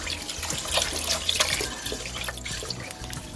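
Rice rinsed under a running tap in a sink, water splashing steadily and close over the whole stretch, with small drips and sloshes as the grains are worked by hand.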